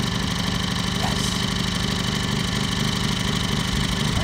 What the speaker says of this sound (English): now that I got the tractor going